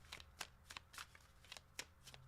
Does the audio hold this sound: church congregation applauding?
no